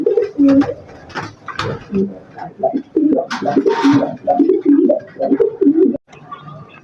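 A pigeon coos close by in a string of loud, throaty, rhythmic calls that continue almost without pause, then stop abruptly near the end.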